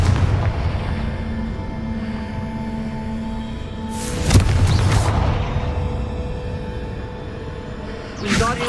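A Confringo blasting spell bursts in Hogwarts Legacy with a sharp explosive crack and rumbling boom around the middle, then a second smaller blast near the end over a constant game ambience.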